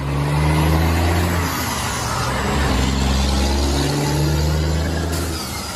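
A sand truck's engine idles and runs steadily close by, with a low rumbling drone that shifts pitch slightly as it holds for several seconds, no voices over it.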